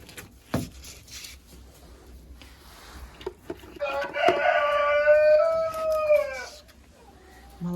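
Hens in a chicken coop cluck in short scattered bursts, then one lets out a loud drawn-out call lasting a couple of seconds, set against clattering sounds close by.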